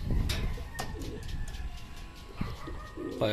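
Racing pigeons coo close by with a few wing flutters as they arrive home from a race, while a person speaks faintly in the background.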